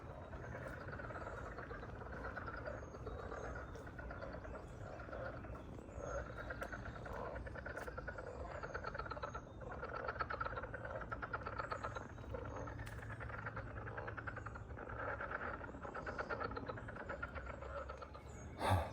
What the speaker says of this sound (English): Frogs of some sort, unless there's something else lurking out here